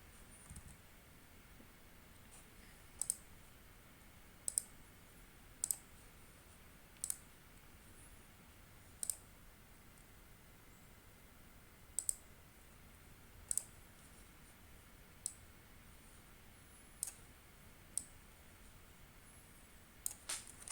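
A computer mouse clicks repeatedly during work in SPSS statistics software, sharp isolated clicks spaced a second or two apart over a quiet background, with no talk.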